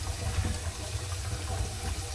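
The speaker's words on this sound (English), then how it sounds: "You can see the water going through it." Water runs steadily through a newly fitted sink drain pipe with an extension tube, a soft continuous trickle and rush heard close up with no talking.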